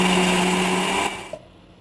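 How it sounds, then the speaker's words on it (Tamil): A kitchen blender whirs loudly at a steady pitch as it purees fried onions with yogurt, then cuts off and spins down abruptly near the end. "எல்லாத்தையும் பிளெண்ட் பண்ண போகிறேன்."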